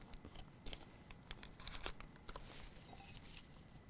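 Small paper craft pieces are folded in half while a square cartonnage box is assembled, making crisp crinkles, light crackles and small snaps close by, with no one speaking.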